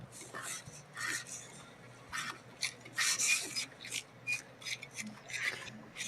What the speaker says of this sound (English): Like he's sawing that head off screen.